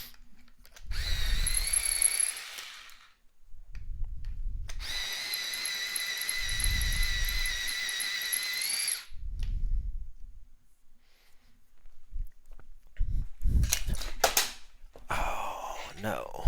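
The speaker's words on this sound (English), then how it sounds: "I need to sharpen this." An electric sharpener grinds a colored pencil in two whirring bursts, one short and one longer, each with a steady high motor whine, followed by quieter knocks and handling sounds.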